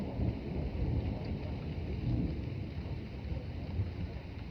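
Heavy rain pours steadily during a severe-warned thunderstorm line in Troy, Illinois, with wind rushing and low thunder rumbling through the dense, even downpour. Nobody speaks.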